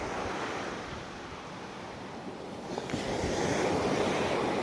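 Strong waves surge and wash continuously into a beach cove at Puerto Azul, Ternate. The loud, close roar of surf swells toward the end and is mixed with wind buffeting the microphone.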